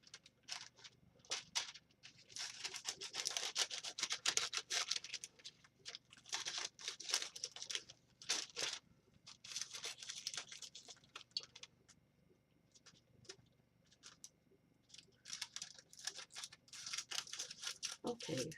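Paper being trimmed and cut with scissors to fit an embossing folder, close crisp snipping and rustling in bursts with short pauses, the cuts spread across the clip.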